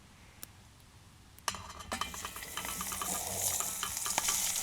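Vegetables dropped into a hot pan for a bush cook-up sizzle and fry, with a sudden onset that grows into a steady crackling hiss, with scattered clinks of utensils against the pan close by.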